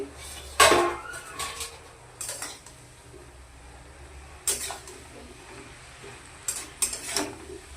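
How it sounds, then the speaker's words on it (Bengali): Vegetables being stirred in a pot while cooking: a few scattered metal scrapes and clinks of a spoon against the pot, sharp and close, separated by quiet pauses, with no talking. "সবজিগুলো সেদ্ধ হতে আর কিছুক্ষণ সময় লাগবে ভালো করে আর একটু নাড়াচাড়া করে নিব"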